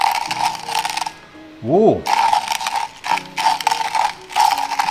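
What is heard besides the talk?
coffee grinder grinding coffee beans stored on shelf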